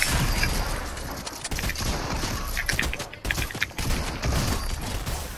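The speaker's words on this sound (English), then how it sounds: "Oh, people shooting." Fortnite gunfire, a dense, continuous barrage of overlapping shots and impacts that stays loud throughout with brief dips, like a busy firefight at moderate distance.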